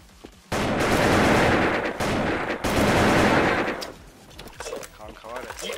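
Sustained bursts of automatic AKEI-47 rifle fire in a shooter game, loud and close, two long continuous volleys followed by shorter scattered shots, with players talking over the shooting.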